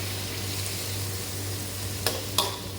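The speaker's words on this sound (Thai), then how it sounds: "เราก็จะผัดไปเรื่อยๆ จนกุ้งสุก" Shrimp stir-frying with golden garlic in a pan for stir-fried basil shrimp, a soft continuous sizzle with two sharp spatula scrapes near the end, no talking.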